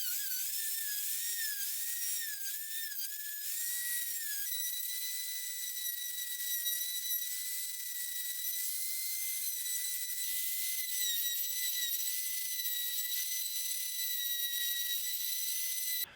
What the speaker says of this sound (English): now I'm going to carve out these eye sockets with a Dremel tool and this little burr bit.